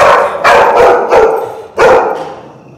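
A goldendoodle barks loudly and close by, four sharp barks in an uneven burst, each ringing out before the next, with no talking.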